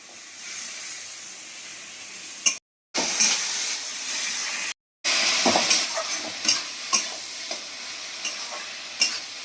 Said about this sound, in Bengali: এবার আমি মশলাটাকে ভালোভাবে কষে নিই।